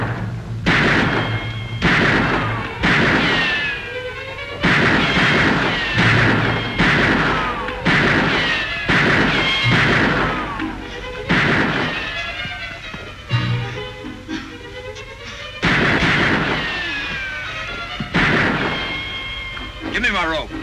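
Pistol gunfire rings out in a 1950s western series scene, a long run of loud, booming shots fired in quick succession with echoing tails, punctuated by brief gaps, with dialogue and other voices mixed in between.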